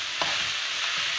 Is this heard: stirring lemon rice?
yes